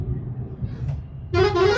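A low engine rumble, then a loud, close bus horn honks in a sustained blast near the end, heard from a car.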